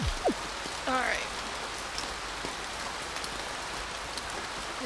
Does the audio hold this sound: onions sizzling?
no